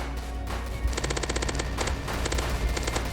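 A minigun rips through zombies in a video game in several rapid, loud bursts of sustained automatic fire separated by short pauses, with no talking over it.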